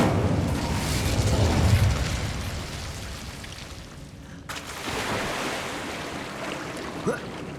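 A burst of fire from the Incendio spell in Hogwarts Legacy, a loud rushing flame roar that swells and fades over several seconds, followed by a sharp cut and lower rumbling ambience.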